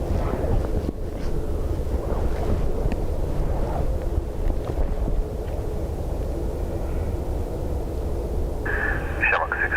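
Strong gusting wind buffets the microphone at Dublin Airport, a dense low roar that stays loud and continuous throughout, with faint radio chatter beneath it and a brief tonal squeal near the end.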